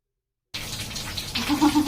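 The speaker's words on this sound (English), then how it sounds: "we're going to rinse this out real quick" Water from a handheld shower rinses out a fish tank, starting abruptly after silence as a close, steady splashing gush against the glass.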